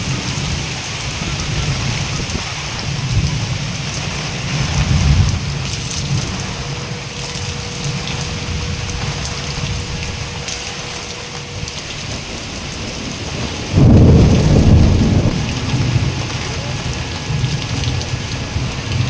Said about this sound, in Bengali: কি পরিমাণে ঝোড়ো হাওয়া আর বিদ্যুৎ চমকাচ্ছে, সেই রকম পরিমাণে বৃষ্টি